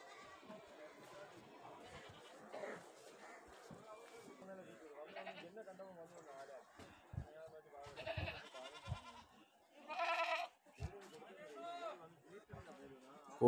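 Goats bleat at a livestock market in Kerala, with a few short, loud bleats rising over steady nearby talk among the busy crowd.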